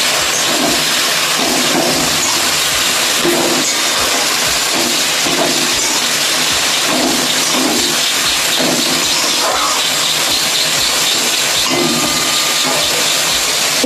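A pressure cooker boiling banana-stem and hog plum lets off a loud, steady hiss of escaping steam, with faint rhythmic pulses running underneath the whole time and no talking.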